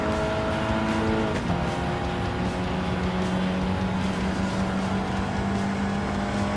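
Race cars in Gran Turismo 7 tearing past, including a Ferrari, with a loud, steady engine drone and a rising pitch sweep as a car goes by, close and continuous, without talk.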